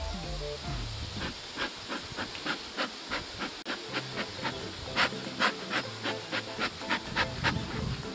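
A beekeeper's smoker puffs repeatedly at a hive, each squeeze of the bellows giving a breathy hiss in a steady rhythm, close and fairly loud over outdoor background noise.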